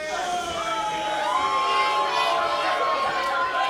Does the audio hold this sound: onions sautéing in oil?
no